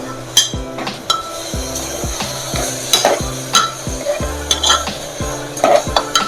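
Grated bottle gourd sautéing in ghee in a pan, a soft sizzle under repeated clinking scrapes of a spoon against metal in an irregular stirring rhythm, close and clear with no talking.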